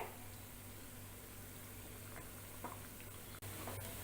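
Muthiya dough dumplings dropped into hot oil in a kadhai, giving a steady soft bubbling and sizzling hiss with a few small pops, fairly quiet and close, no talking.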